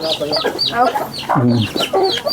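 Kept chickens, among them a brooding hen, cluck loudly and close by in a yard full of fowl, with rapid overlapping clucks and a short burst of louder calling midway.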